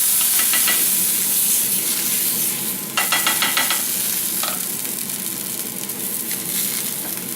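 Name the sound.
pork carnitas sizzling on griddle with added moisture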